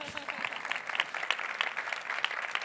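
Audience applause at a talk on physics for engineers, a dense steady patter of many hands clapping that holds at moderate loudness throughout.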